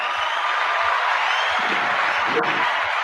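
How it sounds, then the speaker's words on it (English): Crowd at a live WWE Hall of Famer event cheering and applauding the Godfather's entrance, a dense, loud, continuous roar of clapping and shouting that stays steady throughout. "And the crowd goes wild."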